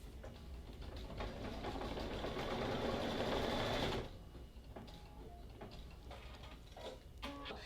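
A Brother embroidery machine sews a knife stitch, a steady, fast mechanical whir for about four seconds that then cuts off, leaving faint ticks and clicks.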